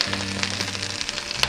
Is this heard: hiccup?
no